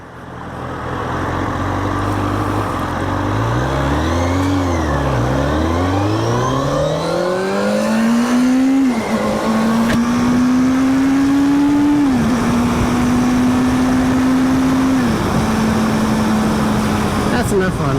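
A car launches hard from a stoplight, its engine loud and close as it revs up, climbing in pitch through several gear changes, each dropping and rising again before settling into a strong sustained pull.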